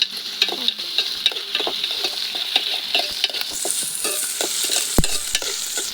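Garlic and ginger fry in oil for mango pickle and are stirred in the pan, giving a steady close sizzle with scraping stir strokes and one sharp knock.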